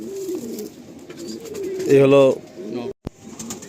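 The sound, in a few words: Madrasi breeder pigeons cooing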